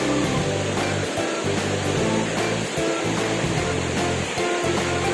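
Sapan waterfall in Bo Kluea, Nan, running with plenty of water: a steady, loud, broadband roar of falling water that continues without a break, with no voices.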